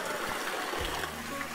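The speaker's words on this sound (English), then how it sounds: "I can hear something. Water." Water flowing along a small levada channel on a Madeira hiking trail, a soft continuous trickling rush heard faintly at a distance, with a couple of brief low thumps and no clear speech.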